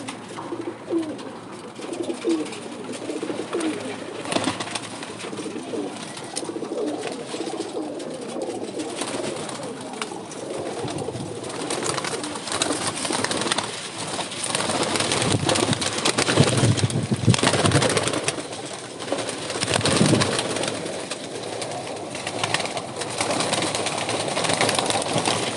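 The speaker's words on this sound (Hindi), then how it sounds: "ये कबूतर भी देखें, आप" Pigeons coo repeatedly from a rooftop loft, their soft calls overlapping against a steady outdoor background hum, with no clear speech.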